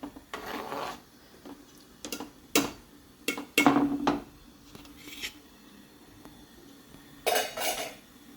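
Boiled root vegetables (tubers) being tipped into a cooking pot for Goan Saraswat khatkhate, giving a few scattered clunks and scraping knocks of spoon and pot, close and fairly loud with quiet gaps between.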